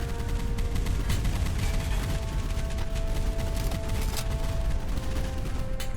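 Naval guns pound away in a warship battle game featuring destroyers like the Fletcher and Fubuki, a dense, continuous barrage of overlapping shots and rumbling blasts with mechanical clatter, loud and steady throughout.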